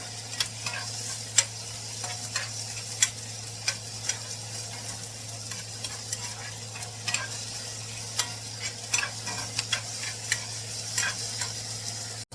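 Bacon sautéing in a pan, a continuous soft sizzle under a low steady hum, dotted with frequent light clicks and taps from stirring.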